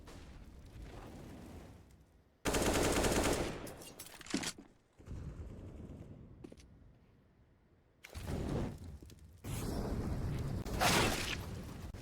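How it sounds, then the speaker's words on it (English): Gunfire in a Counter-Strike match at a tournament, with dense bursts of rapid automatic fire breaking out in two loud stretches, separated by quieter game ambience. "Running out of bullets, QB"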